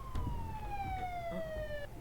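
An ambulance siren from the emergency-response game Emergency 4 with the Montana mod, a sustained descending wail arriving and fading over two seconds above low rumbling engine and ambient game noise.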